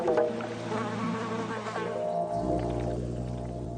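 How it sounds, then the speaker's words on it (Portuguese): Bumblebees and other insects buzz around flowers in the middle of the blooming season, a dense, steady drone of overlapping wingbeats with varying pitch that stays loud and close throughout. "Bem no meio da temporada de florescência, há muita atividade de insetos, todos competindo entre si pela mesma limitada fonte de néctar."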